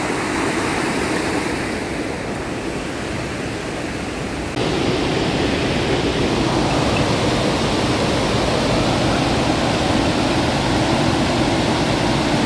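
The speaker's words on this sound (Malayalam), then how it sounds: "അടിപൊളി വെള്ളച്ചാട്ടമാണ്" A waterfall in Munnar roars as a dense, continuous wash of rushing water. It grows fuller and louder partway through and keeps a steady, enveloping level, with no voices.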